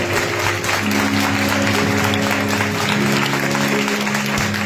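Loud, continuous applause from a congregation during a Sunday church worship service, with sustained musical tones humming underneath the clapping.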